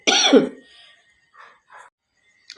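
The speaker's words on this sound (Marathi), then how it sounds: "सॉरी मला खोकला येतो आहे" A single loud cough near the start, followed by a few faint short breathy sounds and a small click near the end.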